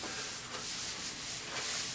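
A rag rubs natural finish into a wooden kitchen cabinet along the grain, making a soft, continuous swishing rub. It stays quiet and close and is heard alone.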